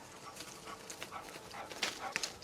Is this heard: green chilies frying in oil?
no